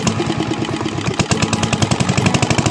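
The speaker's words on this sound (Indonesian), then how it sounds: "Mesin sudah mulai dinyalakan" A small engine at a fish pond harvest sputters into life and settles into a loud, rapid chugging rhythm close by, with no talk over it.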